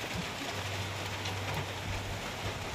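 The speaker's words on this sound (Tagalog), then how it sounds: "Umuulan kasi, hindi makalabas." Rain falls in a steady, soft hiss with a faint low hum beneath it, continuous and even throughout.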